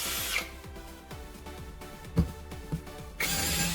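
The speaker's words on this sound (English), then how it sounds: "When the trigger is pressed, the drill runs again." A cordless drill running on a battery pack restored with laptop cells whirs briefly, falls quiet through a few clicks and thumps, then starts up again and runs steadily, loud and close.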